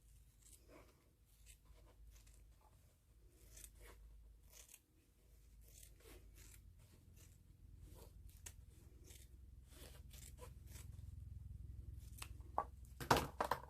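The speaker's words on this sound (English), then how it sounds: "I'm going to cut it down the middle." Scissors snip through red velvet wired ribbon in a run of faint, close, crisp cuts, with rustling of the ribbon and a louder crinkle near the end, and no talking.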